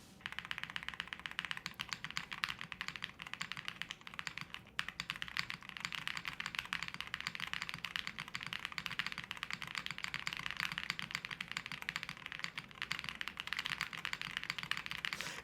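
Continuous rapid typing on a Tiger Lite mechanical keyboard with a tape mod, dense poppy key clacks and spacebar thocks heard close and alone throughout.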